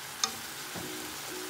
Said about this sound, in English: So you're just gonna stir fry it.